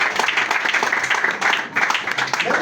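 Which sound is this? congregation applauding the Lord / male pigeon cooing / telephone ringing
congregation applauding the Lord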